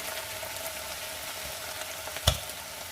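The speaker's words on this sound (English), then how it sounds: "So just keep breaking the meat apart and browning it, and mix in that tomato paste" Ground beef browning with tomato paste in a hot pan gives a steady, close sizzle, with one brief louder clatter or scrape near the end.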